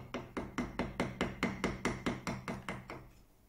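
A chisel tapped with a hammer into a wooden door to cut a recess for a very thin hinge, about fourteen crisp, evenly spaced knocks in a steady rhythm, close and clear, with no talking.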